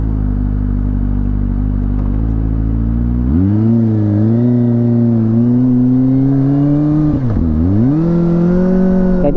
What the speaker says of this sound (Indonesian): Jadi kayak gini ya impresinya knalpot racing